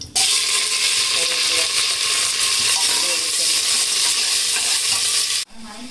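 Onions sizzle steadily and loudly in hot oil with bay leaf, cinnamon and cloves in a pressure cooker while being stirred, a dense continuous frying hiss that stops abruptly near the end.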